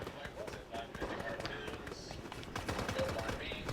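Gunfire during a Fortnite shotgun-only challenge, a quick scatter of shots and impacts in a busy, cluttered game mix, moderately loud, with a voice talking over part of it.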